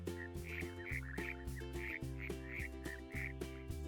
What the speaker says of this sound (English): Frogs call out to talk to each other.